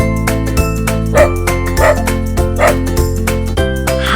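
A playful cartoon farm dog with a ball in its mouth gives a few short, bouncy barks at a steady rhythm, sitting over continuous loud background music.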